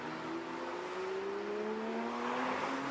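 Porsche cars, from a Cayman S and a 944 to a near race-spec 911 GT3, rumble at a rally stage start line, engine drone rising steadily in pitch under a continuous wash of outdoor noise.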